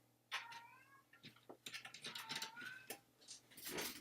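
Several cats meow and caterwaul in a run of drawn-out, overlapping cries, fairly close, with faint mechanical clicks and a low hum from pump equipment underneath.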